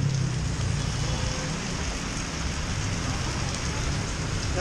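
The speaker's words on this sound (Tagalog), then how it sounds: "Oh, lakas ng ulan." Heavy rain pours steadily during a rainy ride with a motorcycle delivery rider in Tandang Sora, a dense, unbroken hiss close to the microphone with no pauses.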